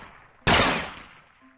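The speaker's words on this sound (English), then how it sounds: "Could you please not shoot the gun in the city?" A single loud gunshot fired in a city neighborhood: one sharp, close crack followed by a long, fading tail, with no talk around it.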